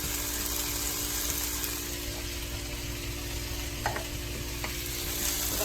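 A spoon stirs black beans and corn frying in a pan, giving a steady, close sizzle with soft scraping and shuffling throughout, no voices.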